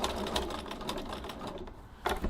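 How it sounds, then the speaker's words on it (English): Sewing machine running in quick bursts, stitching a diagonal seam across a tote bag's adjustable strap, its rapid needle clatter steady and close with a short pause before a final burst. "I'm going to stitch this diagonal here."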